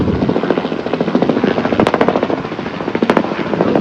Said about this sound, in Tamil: இந்த மாதிரி ஹெலிகாப்டர் டூர் போயிட்டே இருப்பாங்க